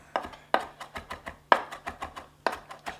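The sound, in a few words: knife chopping herb leaves on cutting board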